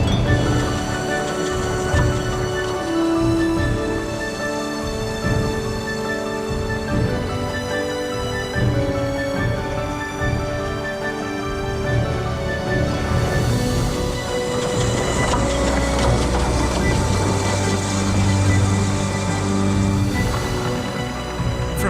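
A heavy train of over 1,000 horsepower rumbles steadily along the rails as it accelerates, engine droning and wheels clattering continuously, loud and close throughout with no voices.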